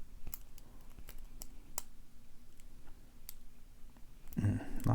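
Sharp, faint mechanical clicks from pins inside a Tahoe Picked split core challenge lock being picked, several scattered ticks over a quiet background, ending in a louder handling rustle.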